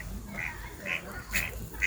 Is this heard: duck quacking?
yes